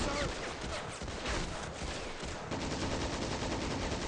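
An MG42 machine gun in the WWII strategy game Men of War: Assault Squad rattles off continuous rapid bursts of automatic fire, dense and steady throughout, mixed with other battlefield gunfire.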